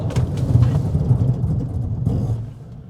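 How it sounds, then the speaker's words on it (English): A Ford Bronco Sport Heritage Limited brakes hard from highway speed on a cold, windy day, a steady low road and engine rumble with wind buffeting and no talk over it. "And while we're at highway speeds, let's just go ahead and test the brakes."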